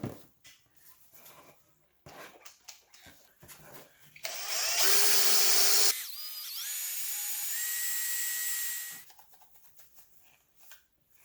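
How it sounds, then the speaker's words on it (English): A power buffer polishing a plastic turn-signal lens from a 1988–91 Honda Civic/CRX with Plastic X polish: a loud, high whirring buzz that starts abruptly, holds steady for several seconds, then cuts off. "we could machine buff the top here with some Plastic X."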